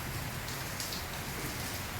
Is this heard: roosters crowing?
no